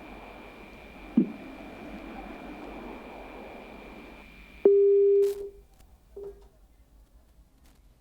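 A disconnected phone call during a live news report gives a single long, steady electronic tone after a stretch of low background hiss. A short beep follows, then near silence.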